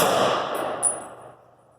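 Rifle volley fired at an outdoor memorial salute: one loud crack that rings out and fades over about two seconds, with a brief metallic ring partway through.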